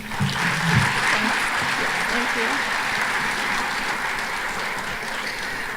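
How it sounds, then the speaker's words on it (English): Crowd at a 20 Under 40 leadership awards ceremony applauds a WTOL anchor coming up to speak, a sustained wash of clapping with a voice briefly heard over it near the start. "if you wait long enough, you get double applause"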